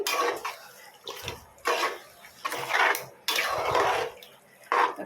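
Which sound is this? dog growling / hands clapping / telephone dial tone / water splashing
water splashing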